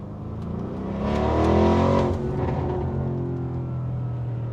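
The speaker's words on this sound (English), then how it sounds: "this actually is equipped with the Audi Sport exhaust, so that just opened up, so you can hear that" A 2020 Audi RS Q8 revs up hard through its Audi Sport exhaust with valves open, swelling into a loud roar for a moment and then settling back to a deep, steady burble.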